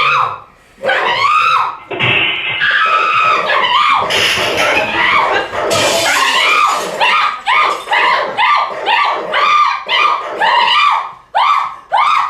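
A small dog barks and yips loudly at close range, a rapid string of sharp, excited barks with brief whimpering notes, continuing almost without pause over a dozen seconds.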